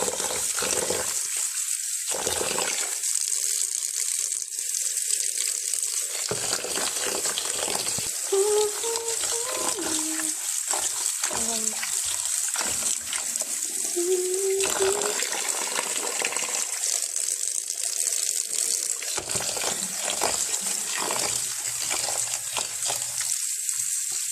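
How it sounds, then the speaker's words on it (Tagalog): Rice is swished and rinsed in water with continuous sloshing and gushing, near and fairly loud, under a steady wash of noise, with a voice speaking intermittently. "Hugasan po lang natin ang ating rice guys."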